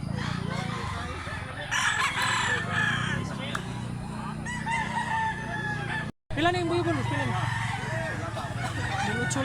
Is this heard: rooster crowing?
yes